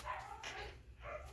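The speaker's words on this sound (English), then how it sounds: "That squealing in the background is actually a puppy." A puppy squeals and yips in the background in short high-pitched bursts, fairly faint, over a low steady hum.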